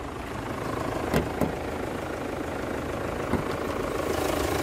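A red 2008 Hyundai Santa Fe MLX with a diesel engine idles steadily, a constant rough low clatter and hum heard up close, with a couple of faint clicks over the even drone.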